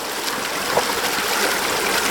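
Kirkconnell Creek water pouring out of a drain where it meets another creek, a steady broadband rush and trickle, close and continuous without talk.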